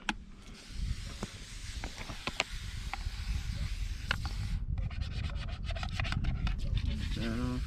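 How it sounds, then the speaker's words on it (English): Dishes being washed outdoors at a creek-side campsite: clattering plate knocks and rubbing scrapes under steady running water, with people talking nearby. "Doing the dishes."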